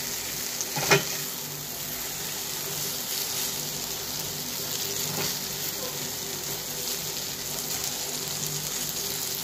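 Shrimp with kochur loti (taro stolons), garlic, salt and turmeric fry in a pan with a soft continuous sizzle, broken by a sharper stir-clank early and a few faint scrapes, steady and close throughout.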